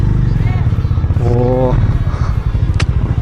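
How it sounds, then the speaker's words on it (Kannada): A Harley-Davidson X440 motorcycle being ridden in third gear, its engine a steady, loud low rumble throughout, with a voice talking over it. "ಇವಾಗ ಹೆಂಗೆ ಇದಾಗ್ತಾ ಇದೆ ನೋಡಿ ಬೈಕ್ ನನ್ನ ಥರ್ಡ್ ಗೇರ್ ಮೇಲೆ"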